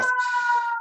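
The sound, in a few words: emergency vehicle sirens in city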